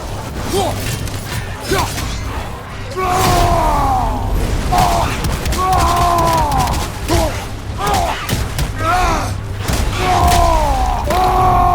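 Rocket blasts and explosions in the video game God of War Ragnarok, loud repeated booms and mechanical crashes layered over a dense battle soundtrack, with tonal music and effects swelling throughout.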